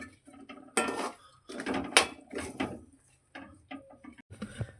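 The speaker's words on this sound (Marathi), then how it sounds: "आता त्यामध्ये शेंगदाणे टाकूया चांगलं आपण असं ढवळून घेऊयात" Peanuts stirred in a pan for peanut chikki, with intermittent scraping and clinking of a spoon against metal in short uneven bursts separated by quiet pauses.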